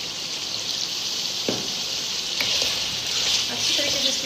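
Kashmiri mutton masala sizzles and fries steadily in a pan, a continuous hiss with a few faint clinks of stirring and no talk over it.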